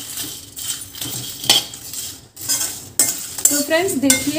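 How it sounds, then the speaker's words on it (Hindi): Whole spices and bay leaves dry roast in a pan, with metal spoon scrapes, clinks and rattles against the pan over a faint sizzle, while someone speaks briefly near the start. "तो इसे भी भून लेते हैं, अच्छी खुशबू आने तक इसे भी भून लीजिए।"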